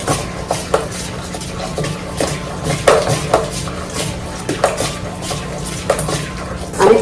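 A big spoon beats cream steadily in one direction for ghee and paneer making, giving repeated scraping and tapping against the bowl in an even rhythm, close and clear with no talk.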